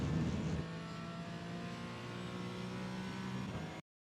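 Porsche Cayman 718 GT4 engine in iRacing on Road America, revving loud and close as the throttle is eased then reapplied, a steady high engine drone with no talk.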